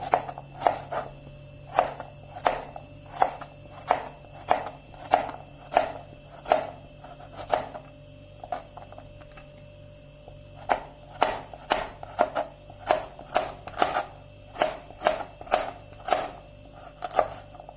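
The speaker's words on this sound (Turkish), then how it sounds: "Şimdi de havuçlar doğrayalım." Rapid knife chops through carrots on a cutting board come in quick bursts with brief pauses, crisp and close, while a low steady hum runs underneath.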